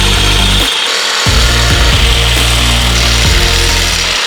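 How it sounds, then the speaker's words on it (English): A power drill bores out mounting holes on Sparco full carbon race seat brackets, a loud grinding whir that cuts in and out in several bursts, close up and with no talking. "First thing that I advise is that you drill them out."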